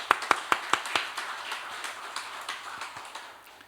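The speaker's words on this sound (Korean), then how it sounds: "우리 박수로 하나님께 영광 올려드리겠습니다" A church congregation at a Korean Sunday worship service in Jakarta claps together in praise, a few sharp, evenly spaced claps that quickly blur into scattered, softer applause fading away.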